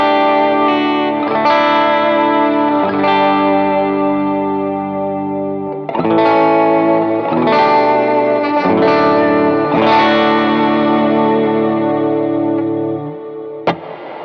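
An electric guitar plays through a pedalboard reverb set as a small reverb, about 3.5-second decay at roughly 40% mix; sustained chords ring out with a shimmering, chorused wash and long tails, loud and alone.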